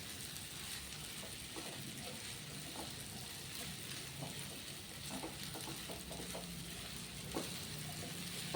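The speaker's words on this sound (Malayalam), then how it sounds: "എല്ലാം കൂടെ ഇളക്കി യോജിപ്പിക്കാം." Soft scraping and clicking of a spoon stirring sabudana khichdi with crushed roasted peanuts in a pan, faint and intermittent over a low sizzle, with no talking.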